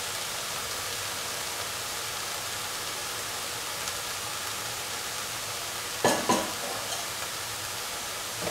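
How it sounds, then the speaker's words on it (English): Winter melon (ash gourd) pieces and green chilies sauté in a pan with a constant, even sizzle, and a brief clatter of stirring breaks through partway along. "Saute and mix, and let the Gourd get heated."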